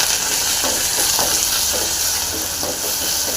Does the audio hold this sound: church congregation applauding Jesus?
no